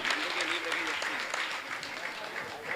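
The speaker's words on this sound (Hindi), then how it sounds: "जोरदार इनका ताली बजाकर सम्मान करें" Audience applause at a religious discourse gathering, dense steady clapping with a low voice faintly underneath.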